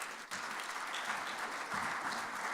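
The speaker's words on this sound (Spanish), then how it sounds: "Un aplauso, por favor." Conference audience clapping after a speaker introduction, a steady wash of applause heard from a distance, fairly faint and even throughout with no voices over it.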